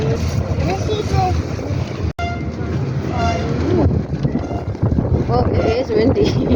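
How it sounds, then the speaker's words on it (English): Steady wind gusts buffet the microphone at a pier, a loud continuous roar with a brief dropout partway through, while people talk over it. "It's a windy day."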